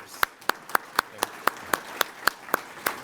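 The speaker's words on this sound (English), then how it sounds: "Let's give a round of applause for our middle school award winners." Sparse, evenly spaced hand claps ring out one at a time, about a dozen crisp strikes in a slow steady rhythm, for middle school winners at a regional art show awards ceremony.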